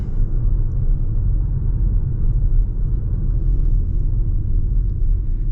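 Inside a 2024 Toyota RAV4 Prime on the move, a constant low road and engine rumble holds steady and fairly loud throughout, with no talk over it.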